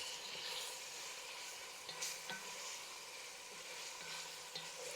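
Pork sizzles steadily in a pan with a soft continuous hiss and a few light clinks and scrapes of stirring, fairly faint and close, with no voices.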